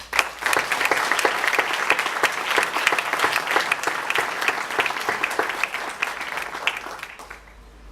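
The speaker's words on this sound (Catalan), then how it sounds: "Demano un fort aplaudiment per a Simó." Loud, sustained applause from an audience at a Catalan civic award ceremony, dense rapid clapping filling the room evenly before tapering off near the end.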